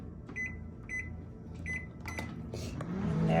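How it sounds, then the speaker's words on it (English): A microwave oven melting chocolate runs with a steady close hum, broken by regular faint tonal pulses and small clicks, and grows slightly louder toward the end. "I'm gonna put that in the microwave for 2 minutes, and that should be enough to get it melted"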